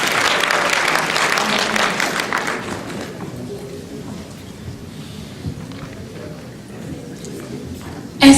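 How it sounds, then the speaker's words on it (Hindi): Audience applause at a Hindi comic poetry gathering (hasya kavi sammelan) in Morrisville, with a burst of clapping over the first three seconds that fades into low room murmur and scattered taps. "उनके लिए भी आप ताली बजा दीजिए"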